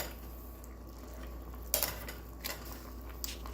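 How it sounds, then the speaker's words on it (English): A spoon clinks and scrapes against a pot while spicy ramen is stirred, with a few sharp metallic knocks over a low steady background hum and no talking. "Now I'll just start stirring a little bit more."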